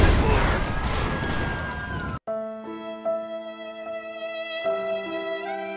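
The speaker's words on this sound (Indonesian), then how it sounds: "Tadi mobilnya meledak guys" A car explodes in Grand Theft Auto V, a loud, dense roaring blast with crackling fire lasting about two seconds, then cut off abruptly as game music takes over.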